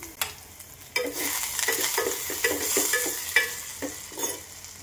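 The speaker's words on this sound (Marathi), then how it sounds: "आता यामध्ये थोडासा कांदा टाकून घेते आणि कांदा देखील आपल्याला सोनेरी रंगावर परतून घ्यायचा आहे." Chopped onion sautéing in hot oil with cumin and mustard seeds, a steady close sizzle broken by repeated scraping stirs of a spatula in the pan.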